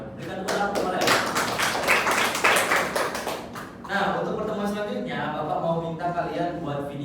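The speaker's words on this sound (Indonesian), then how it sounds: "Berikan tepuk tangan kepada" Students in a classroom break into a burst of applause, dense sharp claps packed together for a few seconds before easing off, with a teacher's voice then speaking over the fading room.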